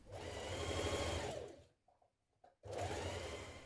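A sewing machine runs loud and close as it stitches the side seams of a McCalls 7969 Tracy dress, stopping briefly for about a second before starting up again.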